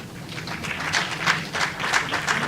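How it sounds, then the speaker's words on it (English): Conference audience applauding a speaker after a panel presentation, a moderate wash of many hands with gently swelling bursts, heard at some distance. "we can give him another round of applause"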